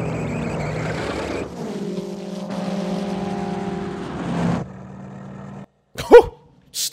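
A car engine from the 1979 Mad Max film rumbles and drones steadily at close range, then falls away into quieter engine noise and ends with a few sharp bursts of sound.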